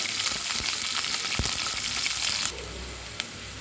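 Onion, garlic and curry leaves fry in hot oil for a drumstick and brinjal tamarind curry, a loud, steady close sizzle with a few stirring knocks and no talking.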